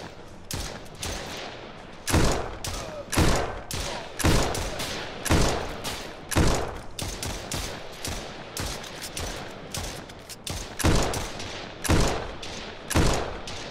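Repeated gunshots in the zombie survival game 7 Days to Die, loud bursts of several shots spaced irregularly across the whole stretch over a steady game background, with no talking.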